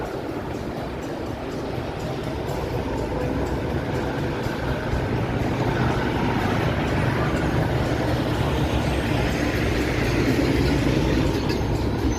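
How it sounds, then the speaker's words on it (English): A loud dump truck passes on a busy downtown Toronto street in the financial district, its heavy, continuous rumble and roar steady and close throughout, with no voices over it. "For once, a dump truck actually helped me out there, drowning out the music at the Cactus Club"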